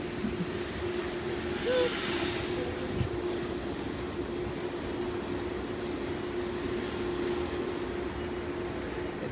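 A train rumbles steadily along the tracks in Taiwan, a constant low roar with faint squeals, heard from inside or nearby.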